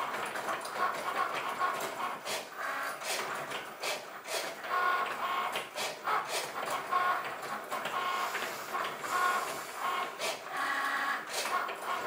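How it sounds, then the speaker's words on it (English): A Cricut cutting machine runs steadily for the whole stretch, with a continuous mechanical whir and repeated motor whines and clicks, fairly close and with no talking over it. "This Cricut machine was actually a gift from my sweet sister, and I'm so grateful."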